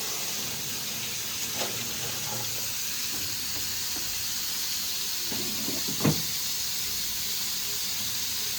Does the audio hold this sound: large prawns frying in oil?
yes